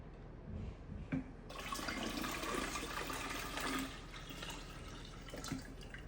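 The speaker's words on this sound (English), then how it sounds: "Now you can pour it into our pitcher here." Lemonade pours in a steady splashing stream into a pitcher, preceded by a few light clinks and followed by soft trickling.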